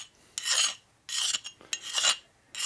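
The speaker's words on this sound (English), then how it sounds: "See how the file digs in when you get to the burr area?" Metal file rasping across a burr on a 1947-48 distributor circuit breaker timer housing, four close, loud strokes with short pauses between them.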